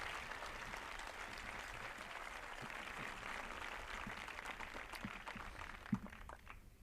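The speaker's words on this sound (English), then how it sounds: "Please give them a round of applause." High school graduation crowd gives a round of applause, a broad, moderately distant wash of clapping that carries steadily and begins to fade near the end, with a single sharper clap standing out.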